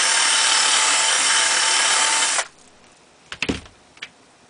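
A power drill whines steadily as it widens a hole in a grout formicarium to fit ant tubing, running loud for about two seconds before cutting off, then a few light knocks and scrapes.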